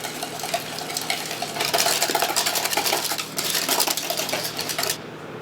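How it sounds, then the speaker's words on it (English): A utensil stirs vanilla and eggs together in a bowl, making a steady run of quick scraping and clinking strokes that swell louder through the middle, with no talking. "And we're just gonna mix that together."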